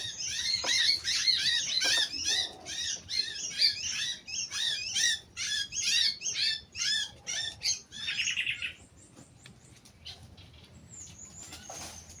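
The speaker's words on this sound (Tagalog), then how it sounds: "Ang daming ibon." A flock of birds squawks and chirps in rapid overlapping bursts, loud and close, then thins to a few scattered calls with quiet gaps.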